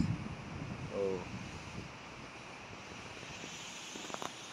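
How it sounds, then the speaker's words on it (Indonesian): Strong, gusty wind sweeps through a durian orchard on an afternoon, a steady broadband rush with a brief louder gust near the start and no talking. "anginnya gede, kenceng lagi"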